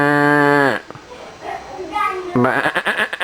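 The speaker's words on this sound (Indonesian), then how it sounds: "Suara domba Garut." A Garut sheep bleats loudly and close at the start, then again after a short pause filled with soft rustling.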